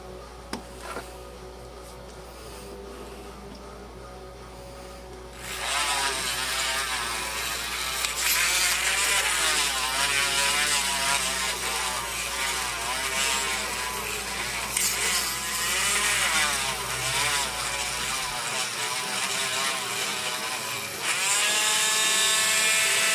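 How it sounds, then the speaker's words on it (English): A Morgan silver dollar coin ring is sanded with low-grit sandpaper on a spinning power tool, a loud continuous whirring, grinding rasp that rises after a quieter start and holds steady. "So to do that, I just use a very low grit sandpaper."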